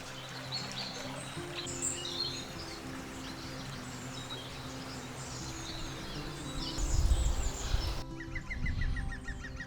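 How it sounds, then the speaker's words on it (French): Birdsong outdoors: scattered chirps and calls rise over a steady low hum, with rustling and bumps growing louder toward the end and a clearer, quieter run of repeated tweets in the last seconds. "J'ai essayé de vous faire profiter du chant des oiseaux."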